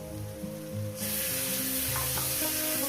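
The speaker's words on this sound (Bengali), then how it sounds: "পেঁয়াজটাকে আমি ভেজে নিয়েছি এরপর দিয়ে দেবো পটল বাটাটা" Pointed gourd paste hits fried onions in a hot pan, and a loud, bright sizzle bursts in partway through and then holds steady, over a background of low tonal hum.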